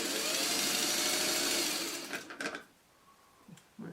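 Sewing machine running steadily while stitching quilt block pieces for a barn swallows block, a loud continuous whir for about two seconds that breaks into short bursts and then stops, followed by quieter handling sounds.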